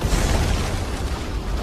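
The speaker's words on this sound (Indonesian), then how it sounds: "melempar dinamitnya dan ledakan pun terjadi" A thrown dynamite stick explodes in the film The Ice Road, a continuous loud rumble of dense, broadband noise. The boom is heavy and sustained for the whole moment, with no voices heard.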